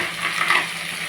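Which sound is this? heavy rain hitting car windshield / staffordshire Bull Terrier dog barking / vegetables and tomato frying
vegetables and tomato frying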